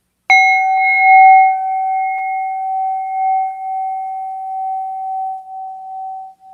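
A meditation bell is struck once and left to ring, its clear, pure tone holding steady and fading slowly over about six seconds, alone with no voices.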